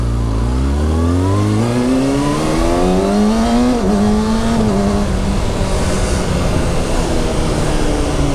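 A 2019 Kawasaki Ninja 636 motorcycle accelerates hard through the gears with a quick shifter, its loud engine note climbing in stepped pitch sweeps with brief clean shift breaks, close and alone.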